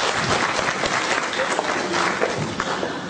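A conference hall audience at a restaurateurs' and hoteliers' congress breaks into sustained applause, dense overlapping claps filling the room at an even, fairly loud level with no voices on top.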